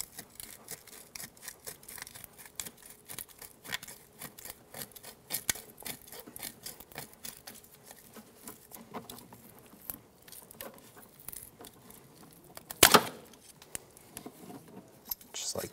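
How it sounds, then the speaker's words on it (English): Pliers pull a retaining clip off a front brake hose on a 2007-2017 Ford Expedition. Soft scraping and ticking handling noises lead up to one sharp metallic snap near the end, close and fairly quiet. "The way this clip comes off, use a pair of pliers. And we're going to pull it straight off the back."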